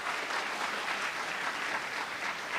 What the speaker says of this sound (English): can we have a big round of applause for how adorable Kranti ma'am is?